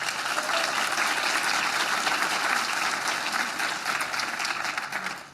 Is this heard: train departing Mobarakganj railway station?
no